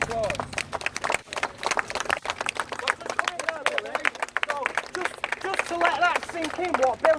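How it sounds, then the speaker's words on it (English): Crowd applause at an outdoor gathering in Rochdale in August 2018, scattered claps mixed with shouting and cheering voices, with someone talking loudly over the noise throughout. "That's a round of applause."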